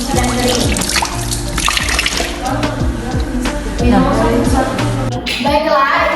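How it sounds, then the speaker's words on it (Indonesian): Hands are washed with soap under running tap water at a sink, a steady close splashing and trickling stream that carries on for several seconds. "Dengan sabun dan air mengalir, kemudian keringkan dengan tisu atau handuk pribadi yang bersih dan kering"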